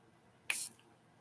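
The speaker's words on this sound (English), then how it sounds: "Let's see how this sprayer works." A spray bottle of hair product releases one short, sharp burst of fine mist, a crisp hiss lasting a fraction of a second against near silence.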